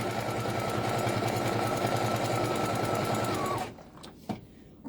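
A sewing machine with a special presser foot stitches over plastic in a loud, fast, even mechanical rattle for several seconds, then stops, leaving a few faint clicks.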